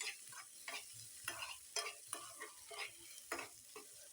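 Onion and tomato for a pizza topping are stirred in hot oil in a pan, with repeated scraping strokes over a faint sizzle, quiet and close.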